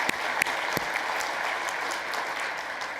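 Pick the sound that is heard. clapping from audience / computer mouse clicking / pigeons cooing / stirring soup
clapping from audience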